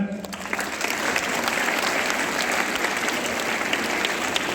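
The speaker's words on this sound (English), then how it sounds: "Clap for him." A classroom audience claps steadily for a student, filling the space with dense, even applause that holds at a constant level throughout.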